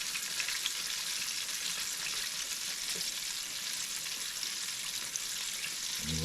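Southern fried chicken frying in hot oil at 300 to 350 degrees, a steady, even sizzle and crackle throughout, with no talking.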